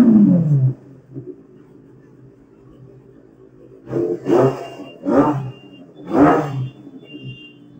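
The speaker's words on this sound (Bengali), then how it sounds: "সুপার বাইক আওয়াজটা আমি শুনিয়ে দেবো" A Benelli 600i inline-four superbike idles low after a brief start, then revs sharply four times in quick succession, close and loud.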